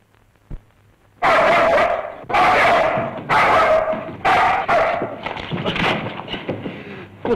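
A dog barks loudly and close in a series of sharp, repeated bursts, first separated by short pauses, then coming faster and more ragged with whimpering yips mixed in, over a faint low hum in an older Bollywood film scene.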